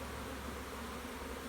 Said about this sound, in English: I put the bees on, shake them onto this white board.